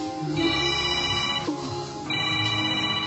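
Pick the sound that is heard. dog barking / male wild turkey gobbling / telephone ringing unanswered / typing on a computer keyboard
telephone ringing unanswered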